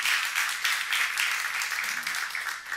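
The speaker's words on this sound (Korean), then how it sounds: "박수 한번 더 해주세요" Church congregation applauding during a sermon, a dense steady wash of many hands clapping that fills the room evenly and stays level throughout, with no voices standing out.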